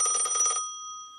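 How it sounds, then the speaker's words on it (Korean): A telephone ringing in a home: one close, buzzy electronic ring that stops abruptly and leaves a clear ringing tone fading away. "편히 쉬고 있는데 전화가 울렸습니다"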